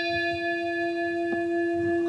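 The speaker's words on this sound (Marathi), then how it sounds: "देवळातली घंटा किंवा शाळेची घंटा।" A temple or school bell rings with one steady, sustained metallic tone that hangs evenly throughout, clear and alone with no voices.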